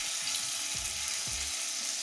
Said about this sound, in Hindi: इसको हम ऐसे ही फ्राई करेंगे जैसे कि प्याज को फ्राई करते हैं ना, ऐसे।